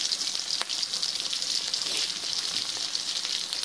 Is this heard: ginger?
yes